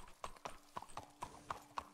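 Horse hooves clip-clop at a steady walking pace in the video game Red Dead Redemption 2 (RedM). The hoofbeats are quiet and fairly close, about seven evenly spaced steps, with no talk over them.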